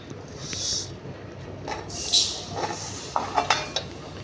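A metal kadai being rinsed and handled in a home kitchen, with clanks and scrapes of pots and utensils in a few irregular bursts, close by and moderately loud, with no voices.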